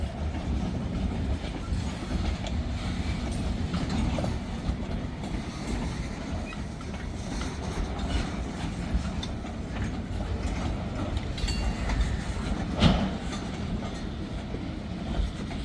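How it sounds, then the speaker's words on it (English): A train pulled by a single locomotive climbs a grade near a county road, making a steady, continuous rumble with faint rolling wheel clatter at middle distance and no voices. "503 is going to have a interesting time pulling this up that grade"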